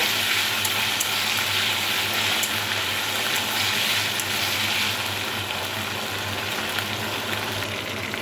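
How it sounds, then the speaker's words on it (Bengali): Whole cumin seeds and ground coriander paste fry in hot oil, giving a continuous close sizzle with a faint crackle and spatter, steady and unbroken with no voices. "দিয়ে দেব গোটা জিরে এবং ধনে বেটে নিয়েছিলাম সেটা দিয়ে দিলাম ভালোভাবে ভেজে নেব"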